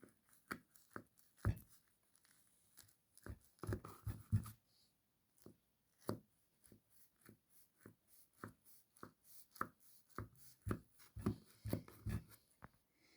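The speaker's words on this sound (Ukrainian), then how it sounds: "Розрізуємо на прямокутнички або на ромбики пахлаву" A knife cutting through layered baklava dough into rectangles or diamonds, a series of quiet, irregular scraping and tapping strokes with short pauses between them, close and faint.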